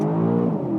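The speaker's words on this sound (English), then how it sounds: "Left foot on the brake, floor the gas," An Aston Martin DBX engine revs hard at a standstill-launch, a steady loud droning roar with strong harmonics that holds close and unbroken throughout.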